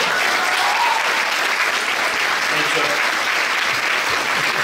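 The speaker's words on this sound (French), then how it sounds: "Bonne main d'applaudissement à notre animateur ce soir." Applause for the host at a regional science fair final in Québec fills the whole stretch, a continuous loud clatter of a large audience clapping with faint voices mixed in.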